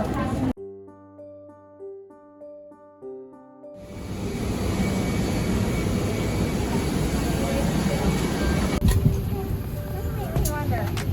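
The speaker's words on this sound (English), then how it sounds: "This is San Diego's airport." Busy airport in San Diego with a steady, loud wash of aircraft and terminal noise, beginning after a few seconds of tonal music and continuing without a break.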